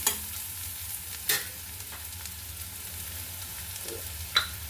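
Ginger and garlic paste frying in a pan, a faint, low steady sizzle broken by a few sharp spatula knocks and scrapes.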